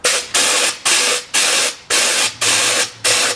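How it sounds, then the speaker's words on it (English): A paint spray gun used for Raptor liner on a Jeep XJ is flushed with lacquer thinner into a container, giving loud hissing bursts in a steady rhythm of about seven pulses, with no talk. "You just put your gun in the bottom of it and just spray until it's clear."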